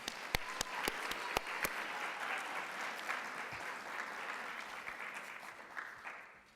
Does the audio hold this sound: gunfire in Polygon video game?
no